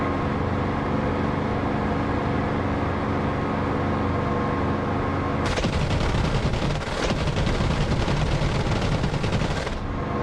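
Gunfire in the DCS flight simulator game: after a steady engine drone, a dense, loud burst of rapid automatic fire kicks in and runs for about four seconds before easing back.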